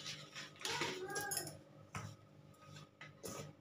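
Paratha dough with whole fennel seeds is mixed in a bowl, giving irregular clinks and scrapes of utensils against the dish, fairly quiet, with no talking.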